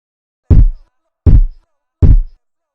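Punchy electronic kick drum in a music production: three loud, isolated deep thumps with short decays, evenly spaced against silence.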